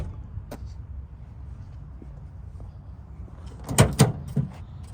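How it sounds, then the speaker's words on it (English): A soft-open tailgate on a 2019 Toyota Tacoma TRD Off-Road pickup releases and lowers, giving a short cluster of clunks and a damped thud near the end over low outdoor background noise. "soft open tailgate."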